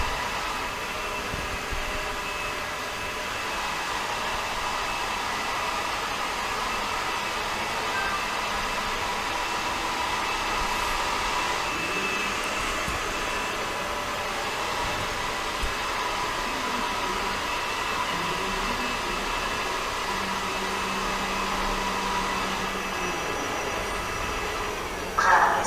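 An Ecovacs Deebot Ozmo 950 robot vacuum runs with a steady, continuous whirring hum that holds at an even level for the whole stretch, close by and alone.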